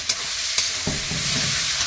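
Spice masala fries in hot oil and is stirred, then tomatoes go in, giving a continuous close sizzle broken by a few sharp scraping stirs and a burst of louder hissing.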